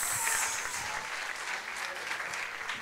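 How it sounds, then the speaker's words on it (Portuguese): An audience at a hypnosis show claps steadily in sustained applause, a dense and even wash of many hands that stays fairly loud throughout. "Uma salva de palmas."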